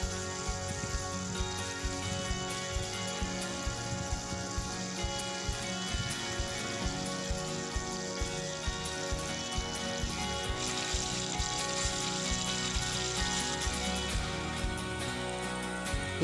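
Prawns frying in a hot pan for prawn biriyani, a steady, close crackling sizzle with fine popping spatters that carries on without a break and without talk.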